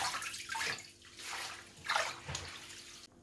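Aromatic herbs are rinsed in clean water after a vinegar soak: several swelling bursts of running, splashing water, close and moderately loud, ending abruptly.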